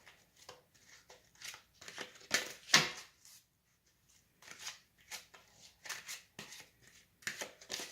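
A tarot card deck is shuffled hand over hand up close, producing a series of soft, papery swishes and snaps in irregular bursts separated by brief quiet gaps.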